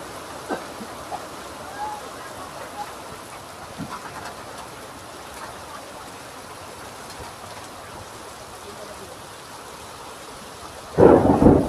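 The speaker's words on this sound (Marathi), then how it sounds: "पाऊस आलेला आहे शेवटी आणि दिवाळीत मुसळधार पावसाची मजा" Heavy rain pours steadily with gusty wind and distant rumbles of thunder from lightning in Bhiwandi, ending in a sudden loud, close burst of noise.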